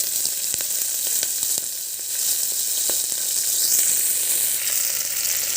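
Toor dal (pigeon pea lentils) dry-roasting in a pan, giving a steady bright hissing sizzle close up with occasional faint scrapes of a stirring utensil.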